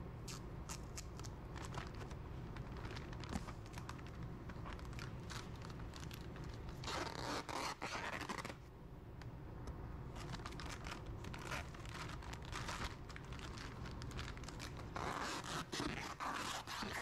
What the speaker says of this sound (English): I'm going to put many rounds of tape around it to make sure this remains in a sterile condition.